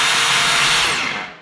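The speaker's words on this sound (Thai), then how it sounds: "เดี๋ยวผมเทสให้ดูอันนี้คือเจาะธรรมดาครับอันนี้คือเจาะธรรมดาเจาะเหล็กเจาะไม้นะครับผม" A Stanley SBR20M2K 18V cordless rotary hammer drill runs in plain drilling mode, a loud steady high-pitched motor whine with no hammering, holding briefly then spinning down at the end.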